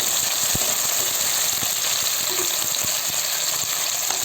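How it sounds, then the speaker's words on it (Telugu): Potatoes and green beans frying in hot oil in a pan for khichdi made with fine semolina, giving a steady close sizzle with occasional stirring knocks and no talk. "ఈ ఉర్లగడ్డలు, బీన్స్ నూనెలో కొద్దిసేపులో వేయించుకోవాలి"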